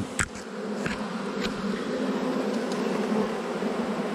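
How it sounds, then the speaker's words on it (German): A swarm of honey bees buzzes steadily around a box while being captured in April, a close, continuous droning hum with a few faint knocks early on. "Und jetzt haben wir ja hier noch ganz viele Bienen am Rande."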